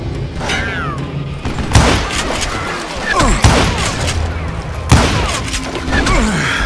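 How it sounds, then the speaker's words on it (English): A fusillade of gunfire in the Call of Juarez Gunslinger video game: several sharp, loud shots and impacts ring out at irregular intervals amid a noisy Western shootout, with a voice speaking over parts of it. "a fusillade of bullets come raining down from on high"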